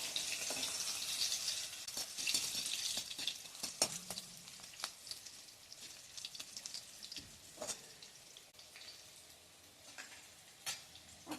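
Red chillies frying in a pan of hot oil for a wheat dalia pulao, a soft continuous sizzle with scattered crackles and pops and occasional stirring clinks, fairly quiet and close, with no talk.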